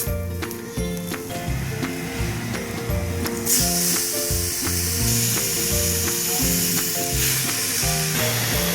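Beef dropped into a hot frying pan with turmeric and spices for a Kerala-style beef curry, producing a loud, close sizzle that swells to a stronger hiss partway through, over a rhythmic background beat.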